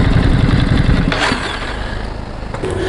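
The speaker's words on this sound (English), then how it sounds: "I still had the engine on, I just switched it off" A motorcycle engine idles with a loud, rough, pulsing rumble and then cuts off after about a second. A quieter mechanical hum and faint clicks follow.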